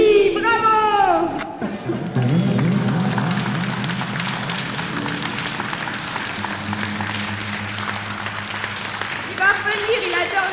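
Audience applause fills an art performance event, a steady wash of clapping with cheers and voices mixed in, a sustained hum underneath, and children's voices rising at the start and end.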